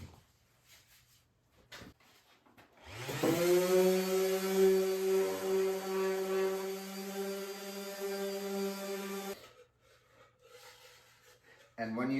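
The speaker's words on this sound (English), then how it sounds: "we start sanding and more sanding and more sanding." A wooden box is sanded with a power sander for a simple build, a loud continuous whining buzz that starts abruptly, holds steady for about six seconds, then cuts off, with quieter handling noise around it.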